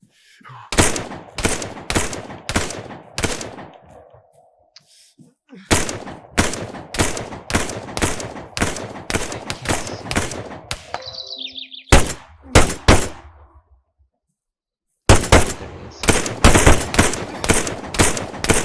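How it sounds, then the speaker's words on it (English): Gunfire in the military shooter game Arma 3 crackles in loud, rapid automatic bursts with short pauses between volleys, plus a few single shots and faint chirps in the gaps. "I'm just trying to follow the gunshots."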